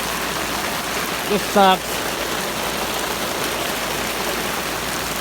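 Steady rain pours down outside, a dense continuous hiss throughout, with a man briefly muttering near the start.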